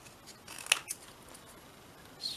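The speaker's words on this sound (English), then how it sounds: "Scissors." Scissors cutting scrap paper close by, with a couple of quick snipping clicks, a small crisp rustle and a faint paper scrape in a quiet room.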